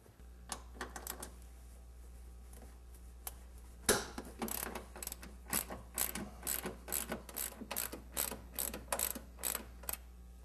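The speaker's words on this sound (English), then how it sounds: "let's go ahead and take the nuts off and drop the strut out" A hand ratchet cranks off the strut mount nuts on a car during a shock and strut replacement, a rapid string of sharp, close clicking bursts with short pauses between runs.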